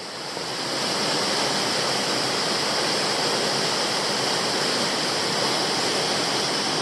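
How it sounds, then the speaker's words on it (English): Sunshine Falls on Toolona Creek in Queensland, a waterfall of about seven metres, gives a loud, steady broadband roar of falling water that swells in over the first second and then holds constant with no voices. "I've arrived at Sunshine Falls"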